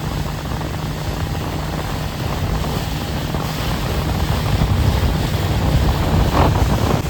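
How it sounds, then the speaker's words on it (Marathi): Sea waves crash in a loud, constant roar, mixed with heavy wind buffeting the microphone and swelling slightly toward the end, with no voices. "कोसळत्या लाटा"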